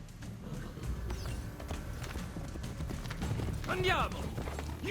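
Horse hooves clip-clop steadily under a continuous wash of game ambience in Assassin's Creed Brotherhood, with a brief whinny-like cry near the end.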